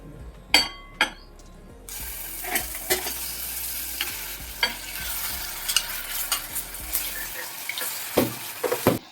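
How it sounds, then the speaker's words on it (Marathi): Masala for mutton curry roasting in oil in a pan over a low gas flame, a steady close sizzle with repeated scraping stirs and spoon knocks against the pan, with no talking. "मसाला मात्र आपण छान बारीक गॅसवर हो खमंग असा भाजून घेऊया तेल सुटेपर्यंत छान भाजायचा"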